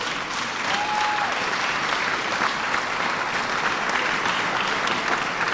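Steady, sustained applause from a seated audience at an anniversary event honouring a professor after his presentation, a continuous even wash of clapping from many hands, heard alone without speech.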